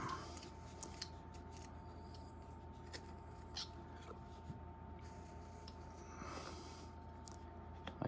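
Knife blade cutting into wood while carving a small wooden reindeer figure, giving faint, scattered scraping clicks over a steady background hum.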